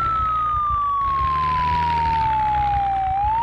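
A police car siren in the zombie survival game Project Zomboid wails loudly and steadily, its tone gliding slowly downward, over a low engine-like hum.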